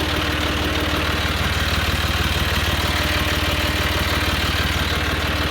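A tractor engine idles nearby on a farm, a steady low rumble with a rapid, even pulse that runs unbroken and fairly loud throughout, with no voices over it.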